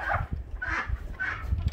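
A rooster squawks in short, harsh honking calls after being caught during a morning escape, three loud raspy cries close by with some handling noise between them.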